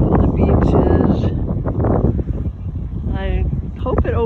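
Gusty wind at a beach buffets the microphone with a low rumbling roar, continuous throughout, while a person talks over it.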